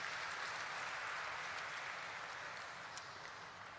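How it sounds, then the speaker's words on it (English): Sustained applause from the audience at a stock exchange listing ceremony for a company chairman, an even, continuous roll of many hands clapping that tapers off slightly toward the end. "Let's have a huge round of applause for him"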